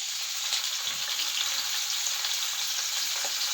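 Onion, tomato, ginger, garlic and green chilli paste frying in coconut oil in a wok-style pan, a steady close sizzle with a constant hiss and no talking.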